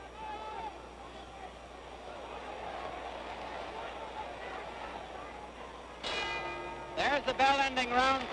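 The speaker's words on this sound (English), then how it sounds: "There's the bell ending round 3." Boxing bell ending round 3 of the 1965 Floyd Patterson vs George Chuvalo fight, a few bright metallic rings near the end over a murmuring arena crowd, following commentator speech.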